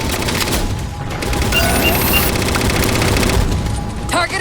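Loud, sustained automatic gunfire rattles without a break through an Xbox 360 Halo 4 campaign battle, with heavy impacts and booming blasts layered into the barrage.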